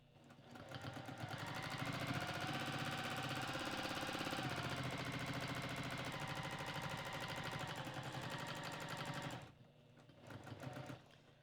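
A domestic sewing machine stitches rapidly and continuously during free motion quilting, loud and close, then stops briefly before a short final burst of stitches.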